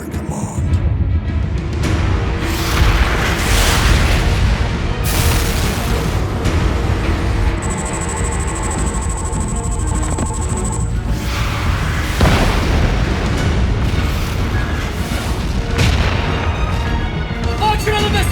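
Missiles launch and explode in a sci-fi space battle: a dense, loud, continuous rumble of booms and blasts runs throughout, with a long high whine in the middle and voices speaking over the din.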